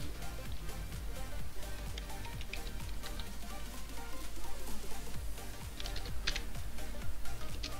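Rapid, steady clatter of typing on a computer keyboard as a name is entered, dense clicks running continuously for several seconds with slight bursts of faster keystrokes, close and moderately loud.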